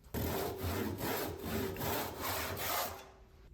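Hand saw cutting through a wooden piece for an upholstered footrest, steady rhythmic back-and-forth strokes about two per second, close and clear, ending in a quiet tail with no talking.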